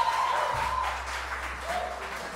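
Applause from an audience at a jazz jam session in a community venue in Olsztyn, a soft, even wash of clapping lasting a couple of seconds with faint voices beneath.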